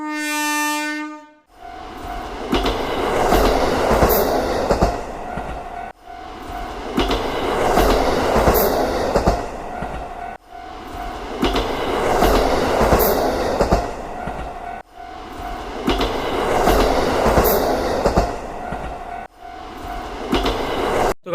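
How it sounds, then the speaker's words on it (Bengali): A train rolls past on railway tracks, loud and close, its wheels clattering over rail joints in a steady rhythmic beat for about twenty seconds after a brief tonal horn-like sound at the start. "চলো দেখি ট্রেনটা কখন আসে।"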